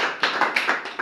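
Clapping from a small audience at a rural development ministry certificate ceremony, a handful of separate claps standing out in a short burst.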